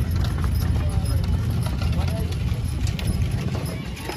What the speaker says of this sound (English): she's driving the horses. A horse and a mule.